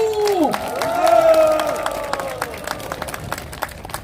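Crowd at a political party rally clapping for President Yoon Suk-yeol, a busy patter of hands under a long tone that sweeps and fades, with cheering and murmuring voices.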